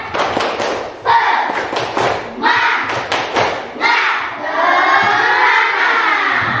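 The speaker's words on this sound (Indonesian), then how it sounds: "mari kita tepuk semangat dulu" A class of students performs the rhythmic Indonesian spirit clap (tepuk semangat) during a science lesson, with loud, sharp claps in patterned bursts between chanted group voices.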